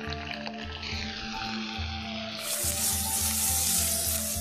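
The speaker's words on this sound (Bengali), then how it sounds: "এবারে দেব হাফ চামচ জিরে গুঁড়ো, হলুদ গুঁড়ো, কাশ্মীরি লঙ্কার গুঁড়ো" Cumin, turmeric and Kashmiri chili powder frying in oil for a Bengali fish curry, a continuous close sizzle that rises louder partway through.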